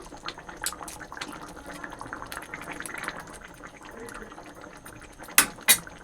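Sardine fish curry simmers in a pot with soft, irregular bubbling and small liquid pops at moderate distance, plus a couple of sharper clinks near the end.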